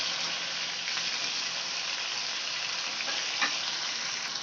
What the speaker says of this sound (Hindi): बैगन आलू डाल के अब इसको अच्छे से पहले मिक्स करेंगे